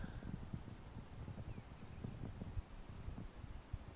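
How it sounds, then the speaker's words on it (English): Steady breeze buffets the microphone outdoors on a morning at a free-flight field where a Modelcraft Pacific Ace 30 rubber-powered model airplane is flown, a continuous low rumble of wind gusting throughout. "You can tell it's quite breezy out here this morning"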